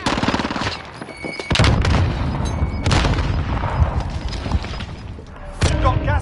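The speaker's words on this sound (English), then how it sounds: "Grenade out!" Rapid gunfire and heavy booms in a Warzone quads match, with a loud burst around the middle that fits a thrown grenade going off amid sustained shooting; dense, close, chaotic combat sounds throughout.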